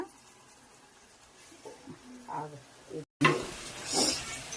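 Garelu, lentil fritters, frying in a pan with no oil, giving a soft sizzle and some stirring scrapes. A sharp cut partway through is followed by a louder, brighter hiss.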